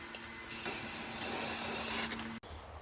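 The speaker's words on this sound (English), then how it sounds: "So I'm just going to put a little bit more primer on it and see what happens" An aerosol can of spray primer spraying onto a 3D print, one continuous close hiss of about a second and a half, followed by a sharp click as the nozzle is released.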